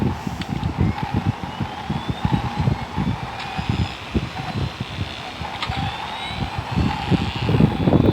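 Airplane engine spinning up in a Thai flight-simulator game, a continuous low rumbling drone with pulsing texture and faint rising whine, steady and fairly loud throughout with no talk.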